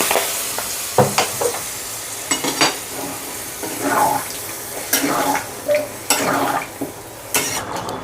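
Water splashes into a pan of chicken and potato curry with garam masala, bursting into loud hissing sizzles amid repeated spoon stirring and clattering, close by.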